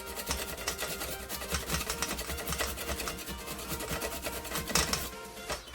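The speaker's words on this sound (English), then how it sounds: "I do a little bit on this heavy grater side. Get all that off in there." Zucchini is rubbed across the heavy coarse side of a grater in quick, continuous rasping strokes, close and steady throughout.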